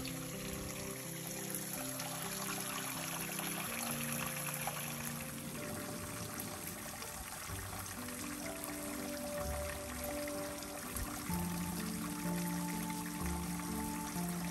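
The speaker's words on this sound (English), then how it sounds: "Take a seat at the base of the falls and rest next to the peaceful trickling water." Water trickles and pours steadily at the base of Escondido Falls in the Santa Monica Mountains, a continuous close wash of flowing water with no voices.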